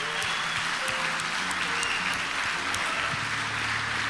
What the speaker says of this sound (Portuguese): Com uma grande salva de palmas, bora receber Pablo Marçal.